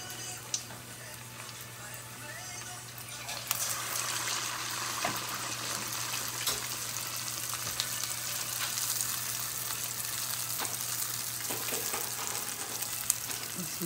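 Picarones, Peruvian fritters, being turned in hot oil, a steady close sizzle that swells into brighter bubbling crackle after a few seconds, with occasional clicks from turning and a low background hum.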